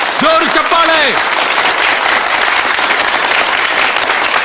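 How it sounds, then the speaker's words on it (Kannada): Loud, dense applause from a crowd greets a prize winner, with a voice briefly calling out over the clapping at the start before the clapping carries on alone. "ಜೋರು ಚಪ್ಪಾಳೆ."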